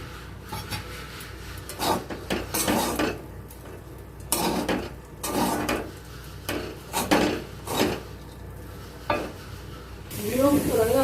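Fried onion and green chillies are stirred into rice in a pot for hilsa fish pulao, with repeated scraping strokes and a soft sizzle, close by and moderately loud, ending in a brief louder rustle.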